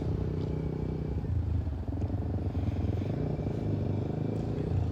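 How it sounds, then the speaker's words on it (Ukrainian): Motorcycle engines rumble steadily at a moderate distance, a continuous low drone of bikes riding by with no voices. "байкери катаються."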